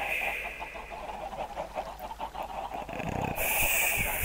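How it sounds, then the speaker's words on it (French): Chickens cluck over and over in a chicken farm inside a video game, a steady run of close, mid-loud clucks with a brighter burst of noise near the end. "Il a fait une ferme à poulet."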